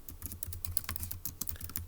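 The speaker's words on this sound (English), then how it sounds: "let's go ahead and type that up in our notes" Notes typed on a computer keyboard: a steady, fast clatter of close key presses running without a break, no voices.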